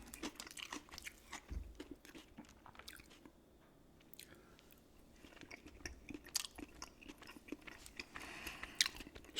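Close, crisp crunching of raw carrot and celery, repeated bites and chewing with sharp snaps between quieter mastication, intimate and near, in an ASMR eating session without talk.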